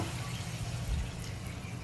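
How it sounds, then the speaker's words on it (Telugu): Water is poured into a pan of frying taro curry, a soft, continuous splashing and trickling that stays fairly quiet, with no speech. "ఇప్పుడైతే కొంచెం వాటర్ పోసుకుందాం ఇందులో"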